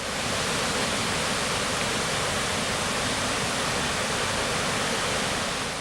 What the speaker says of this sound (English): We would soon learn that lots of the water on the waterfall come from the glaciers.